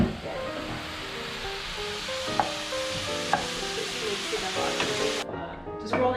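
Strips and cubes of beef fry loudly in a pan for empanadas, a dense continuous sizzle with a few clacks of stirring, cutting off abruptly near the end.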